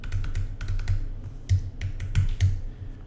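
Fingers tap out a test credit card number on a computer keyboard, quick bursts of close, crisp keystrokes with short pauses between groups.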